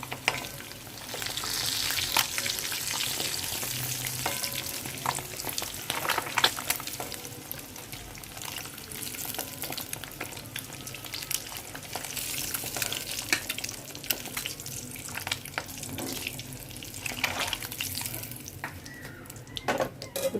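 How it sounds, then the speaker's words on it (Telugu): Eggs frying in a pan for a Telugu egg and dried prawn curry, a steady close sizzle and crackle running the whole time, with light stirring and pan contact and no talking. "గుడ్లు ఫ్రై అయిపోయినాయండి తీసేస్తున్నాను"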